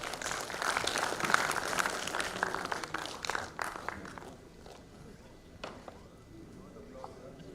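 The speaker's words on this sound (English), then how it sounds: "Kindly give a big round of applause for everyone" Applause from a seated audience at a medical workshop ceremony, loud clapping at first that thins out after a few seconds into scattered claps over quieter room noise.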